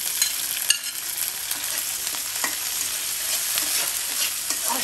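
Small shrimp frying with softened onion in a pan, a steady bright sizzle running throughout with occasional stirring clicks and scrapes, close and alone with no talk.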